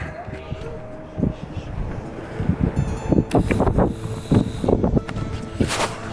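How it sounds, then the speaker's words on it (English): Gusty wind buffeting the microphone in uneven rumbling bursts, loud and close, on top of a lookout tower at Burg Gräfenstein castle in Germany, with faint background noise and no clear talk. "as you can tell, it's windy up here"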